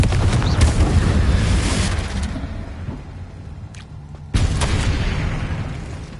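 A blasting spell explodes in the Hogwarts Legacy game as a loud, heavy boom with a rumbling tail that fades, then a second sharp burst of noise, with no talk over it.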